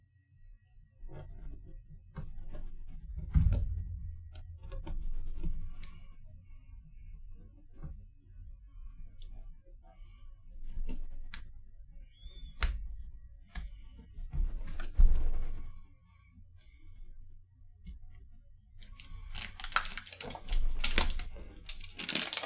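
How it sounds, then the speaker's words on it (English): Cellophane wrap on an Evercade EXP Limited Edition game box being slit with a box cutter and peeled away, a run of small crinkles and ticks that ends in louder rustling tears. "I just love the sound of cellophane being peeled off."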